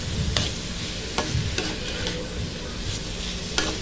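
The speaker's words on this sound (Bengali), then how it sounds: "ভালোভাবে নেড়ে চেড়ে নেব।" Wonton filling with carrot being stirred in a pan, with scraping strokes of a spatula and a soft sizzle underneath, close and steady with a few sharper clacks against the pan.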